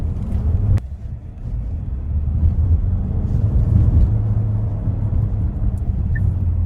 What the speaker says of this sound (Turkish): Şu an benzin sesi de geliyor. Motor sesi pardon.